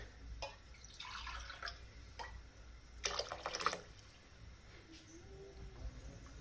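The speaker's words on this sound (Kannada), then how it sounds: "ನೀರನ್ನ ಹಾಕ್ಕೊಳ್ತಿದ್ದೀನಿ" Water trickles and splashes faintly into a cooking pot for vegetable pulao, with a couple of short pouring bursts among scattered quiet drips.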